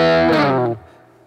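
A bright, heavily distorted Rickenbacker 330 electric guitar chord rings out loudly through overdrive and fuzz, then is cut off sharply and decays into quiet.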